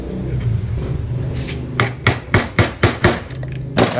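Mallet blows drive a chisel into wood during carving, about eight sharp, evenly spaced knocks after a quieter stretch, close and loud with no talking.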